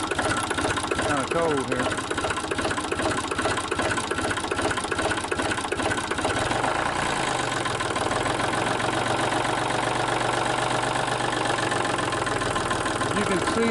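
Sellick piggyback forklift with a fresh battery, its engine cranking and catching, then running at a steady, loud idle up close, with a brief remark from a man over the noise.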